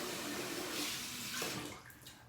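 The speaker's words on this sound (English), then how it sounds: "And here's some running water." Tap water runs steadily into a bathroom sink during a shave, a faint, even hiss that tapers off near the end with no voices.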